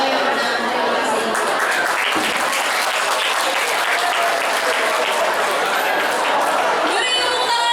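Students at a school student council debate applauding both candidate pairs, loud, dense clapping from a crowd throughout, with chatter mixed in and a voice near the end.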